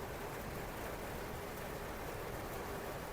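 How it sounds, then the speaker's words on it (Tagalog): Heavy rain pouring down in a broad, steady, unbroken hiss that stays constant throughout, with no voices heard. "Napakalakas po ng ulan."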